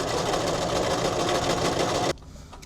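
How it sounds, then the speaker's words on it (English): A home sewing machine runs a top stitch on a thrifted sequin purse, a loud, close, steady rattling hum for about two seconds before cutting off abruptly. "I'll do the top stitch and be professional."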